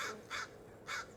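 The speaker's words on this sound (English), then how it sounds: "Oh, there's a crow moved about." Crows calling outdoors on a June morning, three harsh caws in an uneven rhythm, moderately loud and somewhat distant, with no talking.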